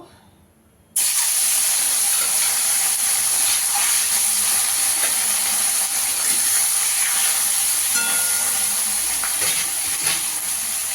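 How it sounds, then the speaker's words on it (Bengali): Pieces of rohu fish drop into hot oil in a wok and set off a sudden loud, hissing sizzle that holds steady and close from the first second onward, with no one talking. "এখানে তেল গরম হয়ে গেছে, কড়াইতে তেল দিয়ে দিয়েছি। এবার মাছগুলোকে ভেজে নেব।"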